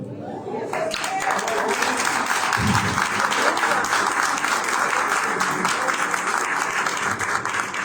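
A church congregation bursts into sustained applause that fills the room, steady and loud throughout, with voices faintly mixed in beneath the clapping.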